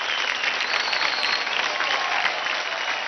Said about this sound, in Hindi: अरे जोरदार तालियां हो जाए अरुंधति के लिए।